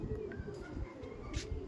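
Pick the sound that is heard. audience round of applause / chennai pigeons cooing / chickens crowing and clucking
chennai pigeons cooing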